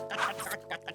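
In the Magic Tom cartoon, a person's voice imitates a clucking hen, giving a brief run of nasal, throaty clucks at moderate volume.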